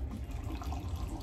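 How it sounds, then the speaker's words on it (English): Brewed Ethiopia light-roast coffee pours steadily from a press into a cup, a continuous near liquid stream running without pause and without talk. "All right, the moment we've all been waiting for, the pour."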